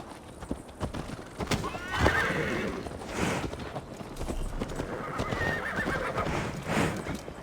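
A horse whinnies and its hooves clip-clop steadily during a mounted ride in the video game Assassin's Creed Valhalla, with neighs rising over the rhythmic hoofbeats and faint voices in the background.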